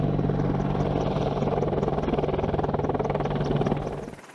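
An AH-64 Apache attack helicopter flying, its steady, loud rotor chop and engine drone filling the clip alone before fading at the end.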